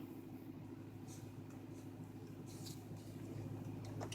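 A Dodge Charger's 5.7 Hemi V8 idles slightly warm after backing off ramps, a steady low rumble with a constant even drone and faint clicks on top.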